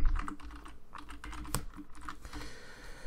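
Quick clatter of a computer keyboard as an SQL query is typed, with irregular bursts of close keystrokes and one sharper, louder key hit midway, no voice.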